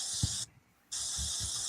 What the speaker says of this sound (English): So she's going to spray it with Pam, or avocado oil.